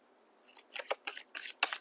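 Tarot cards are drawn and slid from a deck, making about five crisp, papery flicks and snaps in quick succession, close and fairly quiet, with no speech.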